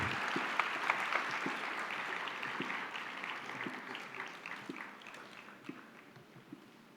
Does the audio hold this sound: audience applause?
yes